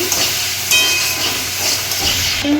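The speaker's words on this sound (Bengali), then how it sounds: "একটু টমেটো দিলাম, দিয়ে ভালো করে ফ্রাই করে নিচ্ছি।" Tomatoes fry in a hot pan for a soyabean and potato curry, giving a steady close hiss and sizzle that runs the whole time, with a brief utensil clink near the end.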